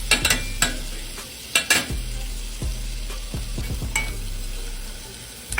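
Steady frying sizzle of onions and pork chops in grease, with occasional scraping and stirring clatters of a utensil in a pan, close and fairly loud, no voices.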